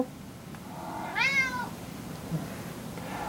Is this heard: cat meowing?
yes